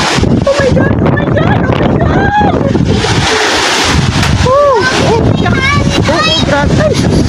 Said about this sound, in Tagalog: Guys, wa pay hunong ang hangin diri. Grabe sa kausog ba.